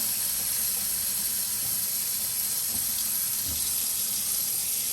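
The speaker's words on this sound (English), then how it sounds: "I'm just gonna fill up the water tank here" Steady rushing of water from a sink tap filling the water tank of a Miele CM6150 coffee machine, a continuous hiss with no voices.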